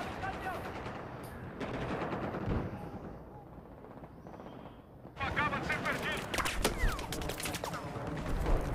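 Battlefield 4 online firefight on PS4, with bursts of machine-gun fire and sharp shots coming in loud clusters, a brief lull in the middle, and a player chattering excitedly over the shooting.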